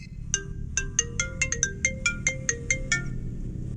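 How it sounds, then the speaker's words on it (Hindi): A phone ringtone repeating a bright melodic electronic pattern about a dozen times in quick rhythm, clear and close over a low background hum, with no talking. "तभी आतंकियों के पास सरकार का फोन आता है।"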